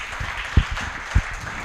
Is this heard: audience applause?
yes